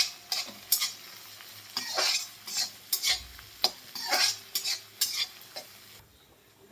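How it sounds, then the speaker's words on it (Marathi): Tomato frying with onion for masala bhindi, with a spatula stirring and scraping the pan in uneven strokes over a gentle sizzle, close and moderately loud, ending in a quieter moment. "या कांद्याबरोबर आपल्याला हा टोमॅटो भाजून घ्यायचा आहे."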